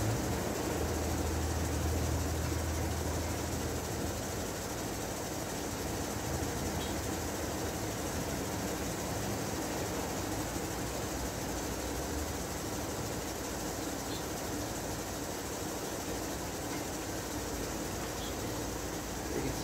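Car engine idling with a freewheeling plastic fan and a worn pulley belt, a steady, dense mechanical whir and hum, close and constant throughout, with no talk.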